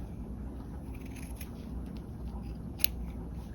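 Scissors trim loose threads on a hand-sewn set collar, quiet snips with one sharp close cut standing out against a faint steady background.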